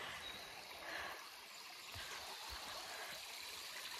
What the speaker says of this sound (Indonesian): aliran sungainya ya tidak seindah di Indonesia ya, tapi lumayan lah kan